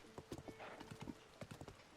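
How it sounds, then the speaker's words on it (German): Horse hooves clip-clop at a steady trot in Zelda: Tears of the Kingdom, a brisk run of close, distinct hoofbeats over about two seconds with a faint snort or whinny mixed in. "Neue Pferde, neue Regionen."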